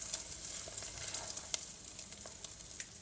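Room-temperature butter dropped into hot caramel sauce sets off a bright, crackling sizzle with scattered pops, steady and fairly close, with no one talking.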